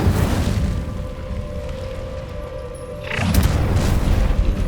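A spell being cast in the fantasy video game Hogwarts Legacy: a deep whooshing, rumbling fire burst with a sustained tonal hum, then a fresh surge of roaring noise near the end, with no speech.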